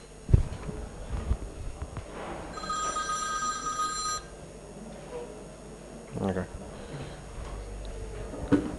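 A mobile phone rings with a bright electronic tone for a second or two in a fluid mechanics lecture room, set against room noise, scattered knocks and a voice.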